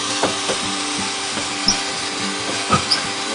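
A power drill bores into an RV holding tank to cut the center hole for a shower drain and toilet, giving repeated short grinding bursts in an uneven rhythm, close and fairly loud.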